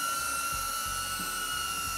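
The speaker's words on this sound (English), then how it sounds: "I'm pleased to say the noise level of this drone is also very impressively quiet." Small Pavo 20 Pro cine-whoop drone with ducted props hovering nearby, giving a steady high-pitched whine with a sharp tonal buzz above a soft low rumble, fairly quiet and continuous with no talking.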